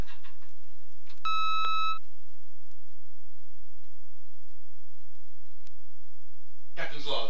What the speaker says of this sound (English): There is, however, an annoying beep that is pursuing me.